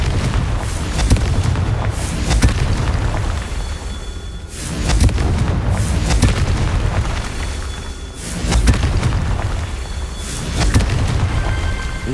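Blasting curse explosions in Hogwarts Legacy sound as repeated loud booming blasts, roughly every two seconds, each a dense wide burst fading into rumble, with no talk.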